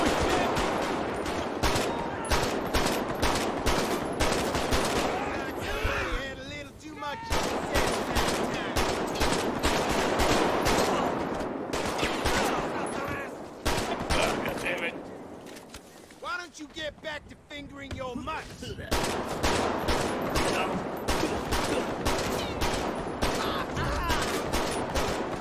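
Sustained bursts of automatic gunfire and rapid shots from a GTA 5 roleplay shootout, loud and dense for most of the stretch, broken by brief lulls, with excited voices talking over it.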